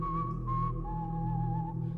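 A lone whistled melody drifts through a dark horror narration, a thin sustained tone wavering slightly in pitch, soft and steady for a couple of seconds with no voices.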